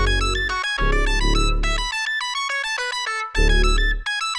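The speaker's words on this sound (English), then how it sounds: "And this is the bass we're using." Deep synth bass notes pulse under bright electronic tones in a looping melody, loud and close, with brief drops where the bass cuts out.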